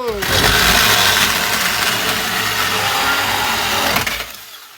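A Ryobi 18V cordless one-handed chainsaw bites into a wooden pallet, its motor whining and rasping loudly and steadily for about four seconds before cutting out abruptly.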